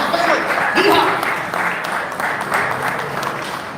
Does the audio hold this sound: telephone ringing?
no